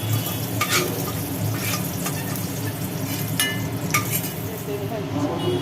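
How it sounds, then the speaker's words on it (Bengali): Pointed gourd pieces sizzle steadily in hot oil in a wok, with intermittent clinks and scrapes of a utensil stirring against the pan throughout. "তেলে মোটামুটি ভাজি করে নেওয়া হলো"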